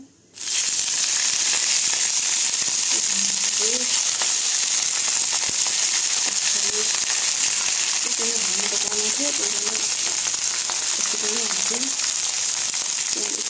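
Maize frying in a pan gives a steady, loud sizzling hiss throughout, with a voice talking faintly underneath.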